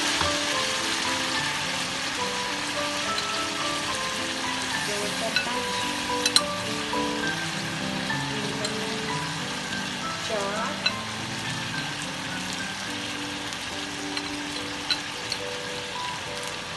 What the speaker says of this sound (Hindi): अब ये इसमें मैं ये जो मैंने मसाला बनाया है वो इसमें डाल दूँगी